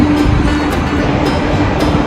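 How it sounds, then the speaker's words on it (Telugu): A passenger train on the East Coast Express route at a station platform, a steady low rumble of rail noise with faint periodic high clicks, continuous and fairly loud with no talk. "సో అయితే ప్లాట్ఫామ్ నుంచి వస్తుంది మన బండి."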